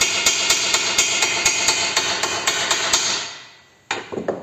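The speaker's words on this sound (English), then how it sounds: "I started hammering it over, and I've sort of hammered it fairly flat." A hammer pounds a metal exhaust pipe end flat on a 1925 Studebaker: about a dozen sharp, evenly spaced ringing blows close by, then a short pause and a quicker burst of several more strikes, with no talking.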